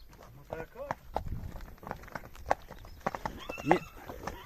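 Hooves of big Belgian draft horses clop irregularly on asphalt, fairly close and moderately loud, with a short whinny near the end and people talking over the steps.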